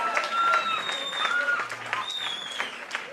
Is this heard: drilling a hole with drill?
no